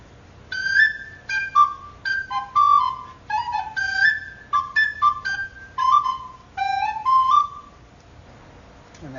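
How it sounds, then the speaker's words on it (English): Two recorders sounded at once in Maki Ishii's contemporary piece Black Intention: short, bright, piercing overlapping tones in choppy bursts and slides, close and loud, then a pause at the end. "one of the most crazy stuff I've ever seen is playing two recorders at the same time"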